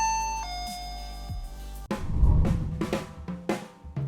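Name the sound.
Switchbot Hub 3 chime sounding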